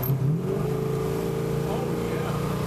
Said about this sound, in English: That's what a 440 Magnum feels like.